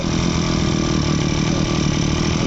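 A Mitsubishi TL-33 flexible-shaft brush cutter engine idles close by, a steady, even, buzzing drone with no change in pitch.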